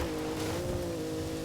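A BMW X5 in a racing video game drives at steady speed, its engine holding a constant drone with a slight waver throughout, moderately loud and alone, with no voices.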